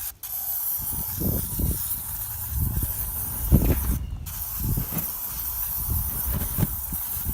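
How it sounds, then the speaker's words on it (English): Cooking oil is sprayed onto a cleaned outdoor grill before fish is cooked, heard as a series of short, close hissing spray bursts with faint clanks between them. "Spray that down and get it ready for the fish."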